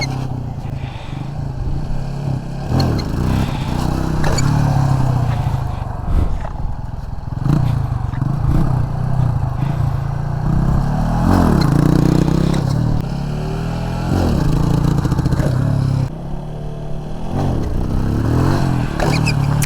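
A KTM motorcycle runs steadily through the whole stretch during wheelie stunt training outdoors, its engine rumbling loud and close with throttle surges, rattles and scraping clatter.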